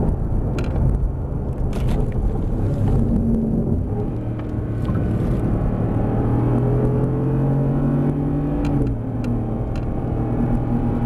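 A Mercedes GT R on a warm-up lap, its engine droning loud and steady from inside the car with rising and falling pitch as it accelerates and shifts, and a few sharp ticks over the rumble.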